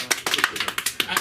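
Quick, irregular handclaps from a small comedy club audience, a close burst of sharp claps lasting barely over a second.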